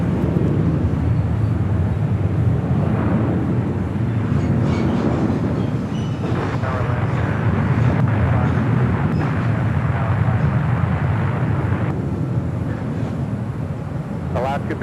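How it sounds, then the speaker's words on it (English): A Southwest Airlines Boeing 737-800 arriving at Los Angeles International Airport after a flight from Nashville, heard as a steady, loud, broadband jet roar that stays continuous through the whole stretch with no talk. "Next arrival here on the south side, Southwest Airlines Flight 2261, coming in from Nashville, Tennessee. It's a 737-800."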